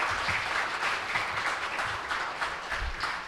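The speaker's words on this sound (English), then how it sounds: "a huge round of applause for the panel" Sustained applause from a conference audience honouring a retail industry panel, a dense even wash of many hands clapping throughout, steady and moderately loud with no talk over it.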